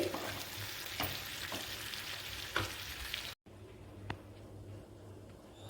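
Chicken fry sizzles steadily in a pan, a constant crackling hiss with a few sharp stir clicks. It cuts out briefly, then returns quieter with one more scrape.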